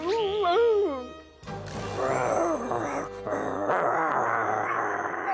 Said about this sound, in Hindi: गुर्राना बंद करो।